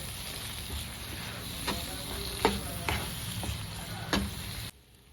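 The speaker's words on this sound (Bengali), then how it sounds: "এখন স্বাদ অনুসারে নুন, হলুদ ভালো করে কষিয়ে নেব।" Ground spice paste with salt and turmeric sizzles in a pan, a steady frying hiss with several sharp scrapes and taps of a spatula stirring, then it cuts off near the end.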